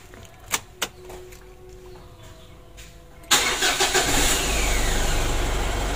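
A truck diesel engine, just after supply pump work, is cranked and fires up: two brief clicks, a quiet pause, then a sudden loud start settling into a steady, rough running roar, close by with no talk.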